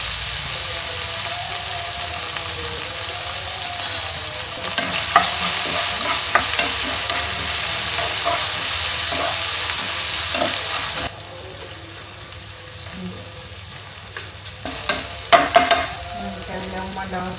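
Onion and garlic fry in hot oil in a pan, a loud continuous sizzle broken by scraping stirs, easing to a quieter hiss partway through before more clattering stir strokes near the end.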